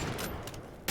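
A bolt gun firing in the video game Witchfire, with a short burst of gunfire landing at the end of a brief stretch of busy game noise.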